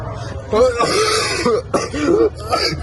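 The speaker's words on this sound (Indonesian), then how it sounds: "kok lu batuk sih" A few hoarse coughs break up a stretch of close, loud talking, with short rough bursts throughout.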